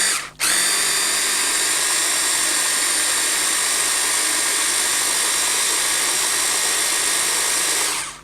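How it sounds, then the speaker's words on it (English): An electric blender whirs loudly and steadily for several seconds, blending a mixture of lemon juice and salt, starting abruptly and cutting off near the end. "So we will blend that straight up."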